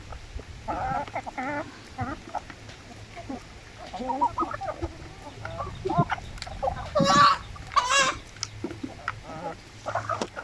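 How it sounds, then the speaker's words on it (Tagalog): Chickens cluck and squawk around a small poultry farm with a hatchery at feeding time, several birds calling in scattered bursts at close range, with a couple of louder squawks near the end. "pakainin muna natin yung ating mga manok."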